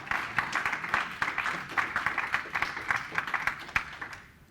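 An audience claps in steady, dense applause after a cloud-native software demo at a tech talk, fairly close and sustained for several seconds before fading.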